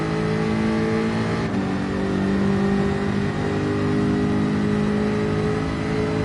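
Race car engine in the Gran Turismo game at Suzuka Circuit, a Gr.4 car with a V8, holding a steady loud drone that shifts pitch as the throttle comes on, heard close with no talking.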